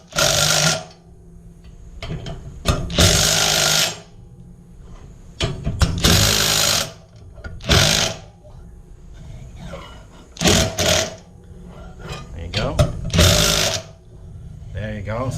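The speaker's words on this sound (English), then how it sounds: "I'm using this little adapter so I can add sockets to power screwdrivers." Power screwdriver fitted with a socket adapter, tightening a bolt on a Char Griller Super Pro charcoal grill. Short whirring bursts start and stop repeatedly, each lasting about a second, fairly close with handling noise between them.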